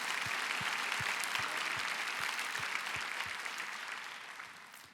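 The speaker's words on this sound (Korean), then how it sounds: "주님께 영광의 박수를 올려드리고 싶습니다" A church congregation applauds during a Korean prayer meeting testimony, a broad wash of clapping with a few sharp nearby claps standing out, fading slightly toward the end.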